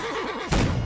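A horse neighs in the Holdfast game, a short wavering whinny followed by a heavier thud of noise, loud and close.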